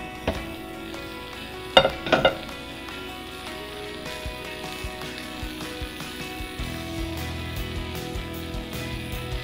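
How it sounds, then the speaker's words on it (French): A pancake frying in a pan gives a steady, soft sizzle throughout, with a few sharp clatters of utensil against pan early on. "On va vérifier que le pancake est bien cuit. On va le laisser encore un peu."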